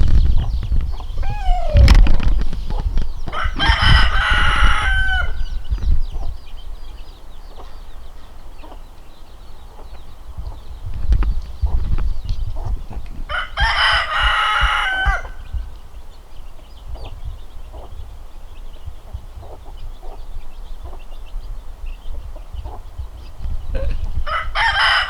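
Backyard chickens with baby chicks: a rooster crows loudly twice, about ten seconds apart, while hens cluck and fowl murmur continuously nearby.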